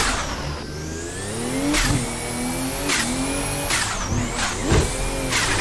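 A drift competition car in the Assetto Corsa racing game revs hard with repeated rising and falling engine pitch, shifting and bouncing off the limiter, with tire squeal mixed into the loud, continuous roar.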